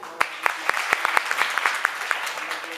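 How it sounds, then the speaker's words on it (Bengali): Applause at a stage program, a burst of clapping from an audience with sharp, irregular individual claps sustained through the moment. "আমরা সেখানে একটি করতালি দিয়ে রাখি।"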